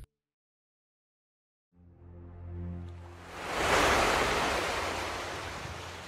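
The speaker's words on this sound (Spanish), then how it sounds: "El tranquilo sonido del mar." Sea waves rise from silence into a broad rushing wash of surf that swells, peaks and slowly eases, loud with no voices.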